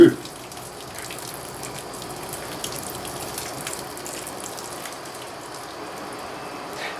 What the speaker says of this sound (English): let's water these babies in good.